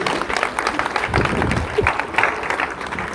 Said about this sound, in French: Applaudissons Sandra pour l'encourager.